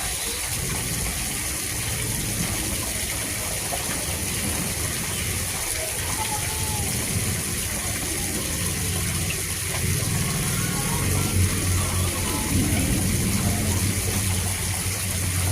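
Sharp 8 kg automatic washing machine running with water, a steady churning wash with sloshing water and faint mechanical clicks throughout, fairly loud and continuous with no talking.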